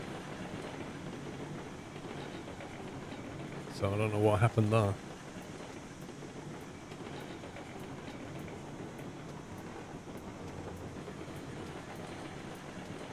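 A train runs in the video game Railroads Online as a steady low rumble throughout, with a brief louder tonal burst near the middle, while voices talk over it.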